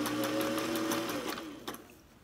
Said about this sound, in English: And then you do want to back stitch a couple stitches